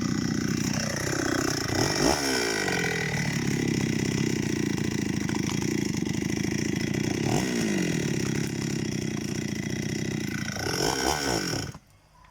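A loud chainsaw roars steadily, its pitch dipping and rising as it bores into the trunk of a dead jackfruit tree, running continuously before cutting out abruptly at the end.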